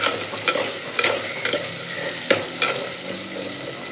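Garlic sautéing in a clay pot, a soft continuous sizzle broken by several sharp scrapes and taps of a spoon stirring at irregular intervals, fairly quiet and close.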